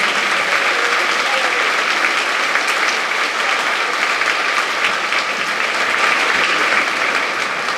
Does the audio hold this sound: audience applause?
yes